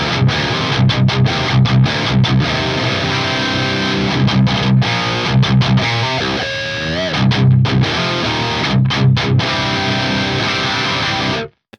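Distorted metal guitar through the FAS AX8 modelling unit's 5153 amp model with 6L6 tubes, chugging palm-muted riffs with bends and sustained notes for several seconds, then cut off abruptly, no talking.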